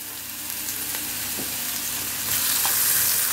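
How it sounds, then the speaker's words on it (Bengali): Onions fry in a hot pan with a steady, close sizzle that gets slightly louder partway through, with a few faint stirring knocks and no talking. "পেঁয়াজটাকে একটু ফ্রাই করব"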